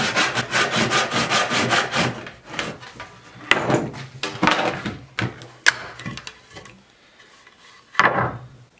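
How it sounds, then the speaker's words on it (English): A high-end handsaw cuts through a piece of figured wood in fast, rhythmic rasping strokes at first, then in slower, irregular pushes with pauses. A final burst of strokes comes near the end, close and alone with no talk. "High-end handsaw a la James Wright."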